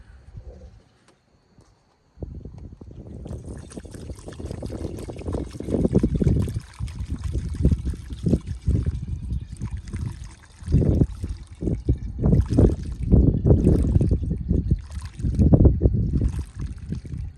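Liquid is poured through a funnel into a 1914 Buick, a gurgling, splashing trickle that starts after a brief quiet and surges in uneven bursts, close by and fairly loud, with no talking.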